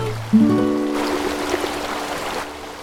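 Factory water being dumped into a river, a steady rushing and splashing flow that starts after a short low mechanical tone and continues loud and close, with no talk.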